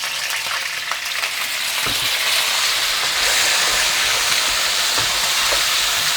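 Ginger and star anise fry in a pan while being stirred, a bright continuous hiss of sizzling oil with occasional soft scrapes, close and steady, growing slightly fuller toward the end.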